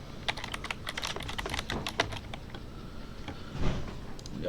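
Typing on a computer keyboard while building a C# Windows Forms application, rapid irregular key clicks in quick bursts, moderately quiet and close.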